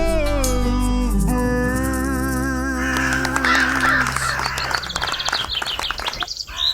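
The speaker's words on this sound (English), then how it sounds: "The American crow." American crow cawing in repeated harsh calls over a dense, music-like harmonic background, loud and close, with noisy clattering sounds in the latter half.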